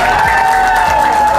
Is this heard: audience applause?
yes